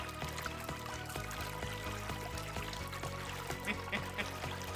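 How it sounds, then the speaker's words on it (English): A Rossmont Mover MX4100 pump pushes water through a 10-gallon aquarium, giving a continuous churning, pouring gurgle over a steady low mechanical hum with a throbbing pulse, fairly close and without voices. "Oh yeah, there we go. Get it. Get that water out."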